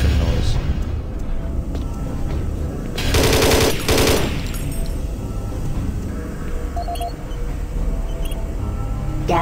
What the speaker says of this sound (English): I love this shotgun so much. That fucking noise.